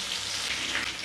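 Crushed garlic hits hot oil for a chicken curry, giving a steady, close sizzle that crackles evenly through the whole short moment.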